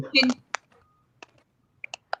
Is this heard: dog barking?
no